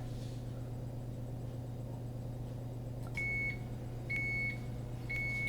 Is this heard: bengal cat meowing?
no